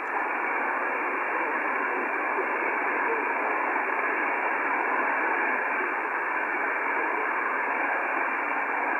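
Yaesu FTDX 5000 ham radio receiver hissing with steady band-limited static, a constant even rush of noise with no voices coming through.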